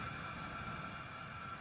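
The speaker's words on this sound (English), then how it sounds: "The noise you hear is the flow of gas." Compressed carbon dioxide gas rushing through the pipe of an injector wellhead, a steady broadband hiss with a faint tonal whine, constant and moderately quiet throughout.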